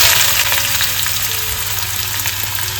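Onion fries in hot oil in a wok as the base for a dried prawn dish, giving a close, steady crackling sizzle with light stirring throughout.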